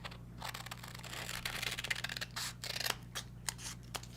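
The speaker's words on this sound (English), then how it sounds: "I'm going to take my scissors. These are the Tim Holtz Recoil ones." Tim Holtz Recoil scissors snip a simple arc through paper in a quiet crafting room, a close run of short crisp cutting strokes with brief pauses between them.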